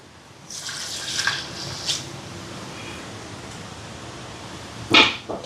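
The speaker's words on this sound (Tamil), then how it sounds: "தேங்காய் பால் முதலாம் பால் கொஞ்சமாக ரெண்டாம் பாலும் மூன்றாம் பாலும் சேர்க்குறேன்" Coconut milk, first and second extracts, poured into a cooking pot of boiled dal, giving a soft, steady trickle of liquid with brief splashy bursts near the start and one sharp clatter near the end.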